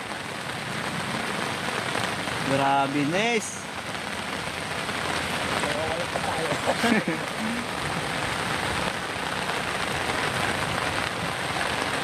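Heavy, unbroken rain pours down on a cold morning during a flood along the water, a steady broadband wash throughout while someone speaks briefly and another voice calls out now and then.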